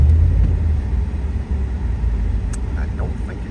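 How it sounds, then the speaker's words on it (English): A Ford F-150 pickup in four-wheel drive high accelerates on dirt, giving a loud, close, steady low rumble that eases slightly midway, with a few faint higher noises near the end. "So I'm just going to give her a little bite in drive, of course, and see if it spins up dirt on all 4."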